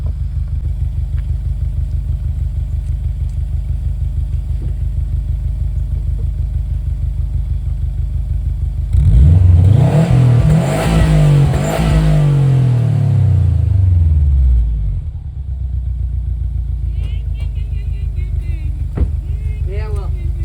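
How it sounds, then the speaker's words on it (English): A 2017 Subaru WRX STI revs hard for several seconds in a loud, rising and falling burst over a steady engine idle, then drops back. A voice is briefly heard near the end. "the revving and maybe the blow-up valve"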